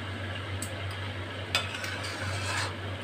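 Raw mango pickle with spices stirred in a pan on a gas stove, giving a soft steady scraping with a few sharper utensil knocks against the pan over a constant low hum.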